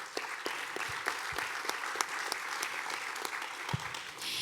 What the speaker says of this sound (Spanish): Un fuerte aplauso para Carolina.